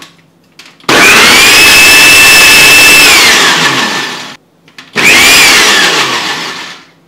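Blender pulsing kiwi for a mojito mocktail: two loud close motor bursts, the first about three seconds with a rising whine, then a pause and a shorter second pulse.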